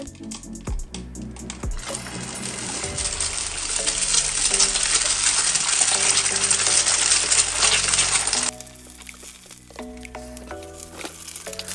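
An egg hits hot, smoking oil in a stainless steel pan and sizzles loudly and steadily for several seconds. The sizzle then drops away abruptly, leaving light kitchen clatter.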